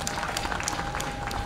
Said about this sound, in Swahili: makofi wahitimu